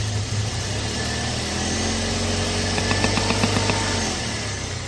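BMW E36 Compact engine idling steadily up close, a dense continuous rumble with a faint, irregular ticking knock creeping in over the last couple of seconds.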